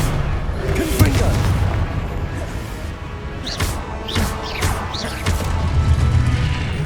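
Fire spell explosions in the Hogwarts Legacy video game boom and crash in several sharp bursts over a rumbling game soundscape, with whooshing magic effects between the hits.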